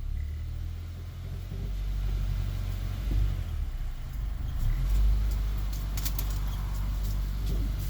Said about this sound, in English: So I will accelerate, see if I get that misfire.